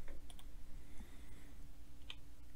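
Computer mouse clicks on a desk: a few small, sharp clicks scattered over a couple of seconds, close and faint against a steady low hum, with no talk.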